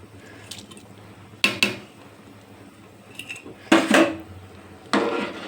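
Fried potatoes are stirred in a cooking pan, giving a few separate clinks and scrapes of utensil on metal over a quiet background.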